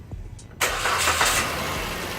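A car engine, its battery voltage drop being tested, is cranked by the starter and quickly catches into a loud, steady running rumble after a brief quiet moment.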